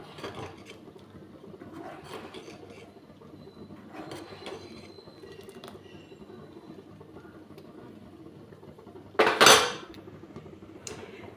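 A spoon scraping and clinking around a pot of dal with sugar and green and red chillies, soft intermittent stirring with one loud metallic clatter near the end.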